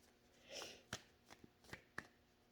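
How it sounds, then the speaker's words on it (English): A deck of tarot cards is shuffled by hand, very faintly, with a soft riffle followed by a few light, sharp taps and flicks of the cards. "Oh, I'm shuffling the cards backwards again."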